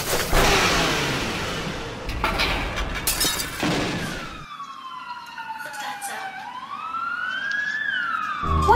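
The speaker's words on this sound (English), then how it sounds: "Why are ambulances just passing and making noise?" Emergency sirens wail as vehicles pass, first a dense noisy rush of traffic and siren blasts, then a clear rising and falling siren tone sweeping by at moderate distance.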